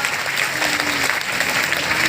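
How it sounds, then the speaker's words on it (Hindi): An audience at a meeting in Ara, Bhojpur, breaks into loud, dense applause, a steady wash of many hands clapping close by, with no voice over it. "लेकिन जोरदार तालियां धर्मशिला मैम और सुरेंद्र सर के लिए"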